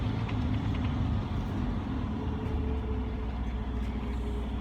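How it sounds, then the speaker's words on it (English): A big tractor-trailer truck engine drones steadily while driving through a city, with loud, continuous low rumble and road noise close by throughout, no voices. "This tractor trailer big as fuck."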